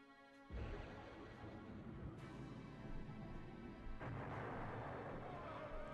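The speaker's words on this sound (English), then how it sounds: "You're supposed to fire all your cannons right there!" Ship cannons firing in Skies of Arcadia Legends, a dense sustained barrage of booming shots that kicks in after a brief lull and swells again near the end, with game music layered underneath.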